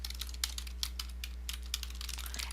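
Soft, quick keystrokes on a computer keyboard tap out a search query in a steady, irregular patter, faint and close against a low hum, with no talking.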